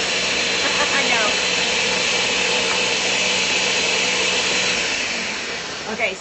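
A Ninja blender running while making vegan eggnog, a steady, loud whirring drone that holds level for several seconds before easing off at the end.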